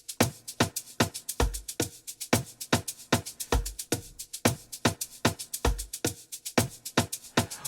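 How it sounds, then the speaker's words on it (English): A steady, busy amapiano shaker loop repeats with crisp, evenly spaced shakes, punctuated by a few deeper low thumps, loud and close with no voices. "So I have these shaker loops inside my sample pack,"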